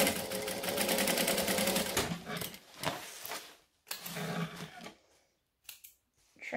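A sewing machine stitches binding onto slippery fabric, running in a loud, close, steady whir that slows and stops, then a few shorter bursts and pauses follow near the end, with no speech.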